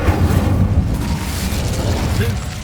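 An Incendio fire spell cast in Hogwarts Legacy, a loud, rumbling whoosh of flame with low booming and crackling texture that stays steady for a couple of seconds, with a voice speaking over it.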